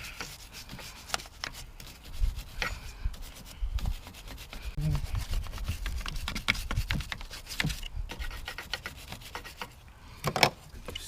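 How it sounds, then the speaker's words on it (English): A tiny brush scrubs grime off a Toyota Yaris 1.3 VVT engine part with close, continuous scratchy rubbing strokes in an uneven rhythm, with occasional clicks and taps. "Get one of these tiny brushes and just clean the grime off."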